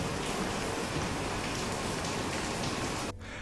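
Steady rain falls as a dense, continuous hiss of drops hitting surfaces, fairly close and even, then cuts off abruptly near the end.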